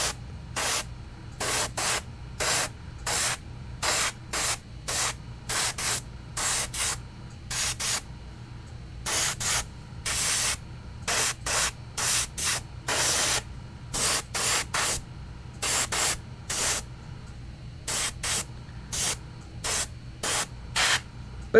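A Warhammer 40k Space Marine Chaplain miniature gets sprayed with primer from an aerosol can, in many short, sharp hissing bursts with brief gaps between them, close and loud.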